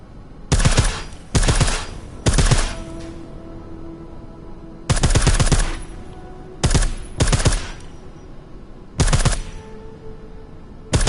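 Suppressed automatic gunfire from the video game Deus Ex: Mankind Divided, fired in about six sharp bursts separated by short pauses, loud and close over a low ambient game hum.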